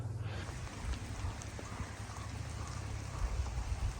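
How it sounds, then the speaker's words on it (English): Steady rain falls outdoors on the Isle of Skye, a soft, even hiss of drops with a faint low rumble beneath, continuous and fairly quiet, with no voices. "now it's really raining"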